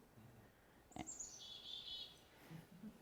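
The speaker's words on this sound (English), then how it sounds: "just our chickadees, one of our resident winter birds" A chickadee, a resident winter bird, gives a single thin, high call that slides downward, faint and somewhat distant over quiet outdoor background.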